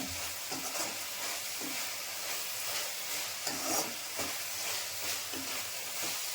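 Mint-leaf gojju relish frying in oil in a pan, a steady close sizzle and hiss with faint stirring scrapes, continuous throughout and with no voices.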